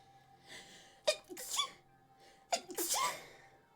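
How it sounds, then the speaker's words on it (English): Two sneezes, each with a sharp gasping intake followed by a forceful burst, close and fairly quiet, spaced about one and a half seconds apart. "Random sneeze."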